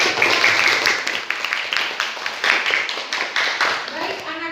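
Students in a classroom burst into applause, a dense, lively patter of many hands clapping together with some voices mixed in.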